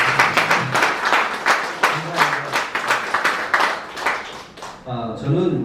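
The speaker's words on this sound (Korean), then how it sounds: "그래서 힘찬 박수로 경기합니다." Applause from an audience at a Korean community unification lecture and harmony event in Atlanta, dense hand clapping filling the room for several seconds with voices underneath, ending as a person starts talking.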